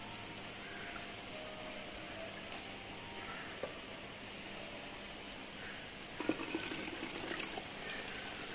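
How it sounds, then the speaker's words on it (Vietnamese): Salted lemon water pours steadily into a plastic bottle with a soft continuous trickle. The splashing grows a little louder near the end and there is no talk. "ta sẽ rót cái nước chanh muối này vào"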